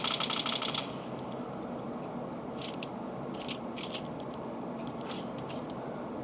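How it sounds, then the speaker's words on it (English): Combat SMG in a video game fires a quick, dense burst of automatic shots for under a second, followed by a low ambient background with faint mechanical clicks and no talking. "Then we got the combat SMG, pretty new."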